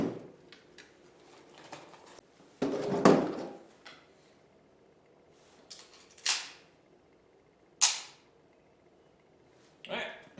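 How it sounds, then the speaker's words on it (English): A Caspian 1911 pistol being test-fired: four sharp, separate shots spaced a few seconds apart, each a crisp crack with a short tail, between quiet background handling noise. "Let's take a few shots and see what happens."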